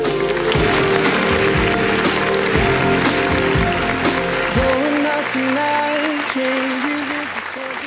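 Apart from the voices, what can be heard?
applause at a 15th birthday party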